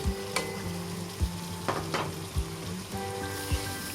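Spices fry and sizzle in a pan while a spoon scrapes and knocks against it in a regular rhythm, each stroke a soft thud over a constant hiss.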